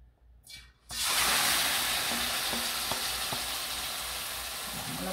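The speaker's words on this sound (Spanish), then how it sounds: "ya que la paila esté caliente, vamos a poner la pechuga de pollo" Chicken breast laid into a hot pan, with quiet rustling before a sudden loud burst of sizzling that settles into a steady, close frying hiss with faint ticks.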